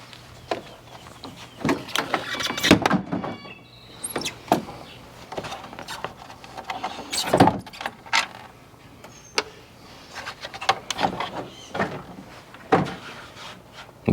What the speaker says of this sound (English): and then I should be able to remove this bumper cover